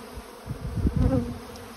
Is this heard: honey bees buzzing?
yes